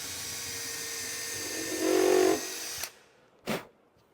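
A countersink bit bores into white oak with a short rising power-drill whir that swells briefly, then stops, followed by two sharp knocks or clicks close by.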